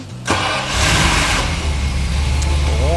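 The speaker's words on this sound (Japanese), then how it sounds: "じゃあエンジンかけてみましょう" A Jaguar E-Type's engine cranks briefly and fires on the first try, then settles into a loud, steady idle with a slight rev, heard close and without talk.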